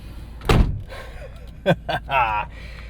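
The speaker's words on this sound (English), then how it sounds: "Listen to this door shut." Car door shut with a single heavy thunk, followed by someone talking close by.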